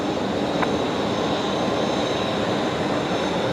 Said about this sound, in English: Wow, that was properly loud. Brilliant reverse thrust action.